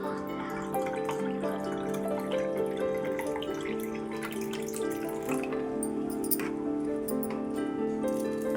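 Cool water poured into a glass holding raw mango paste, a steady trickling and splashing with light clinks of glass, running continuously and close by.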